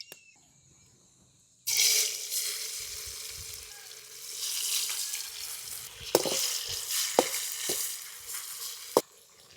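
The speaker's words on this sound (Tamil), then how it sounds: "எண்ணெய் நல்லா காய்ஞ்சதுக்கப்புறம் பொரித்து எடுத்துக்கிடலாம்." Potatoes hitting hot oil after a quiet start, bursting into a loud sizzle that settles into steady frying, with a few sharp clatters of utensil strokes near the end.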